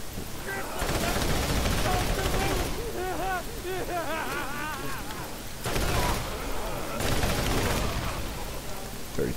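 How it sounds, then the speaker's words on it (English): A high fire rate assault rifle in Borderlands rattles off long rapid bursts with short pauses between them, loud and close, while a voice talks over the shooting. "the assault rifles are so good in this game, especially if you got one that was like a high fire rate"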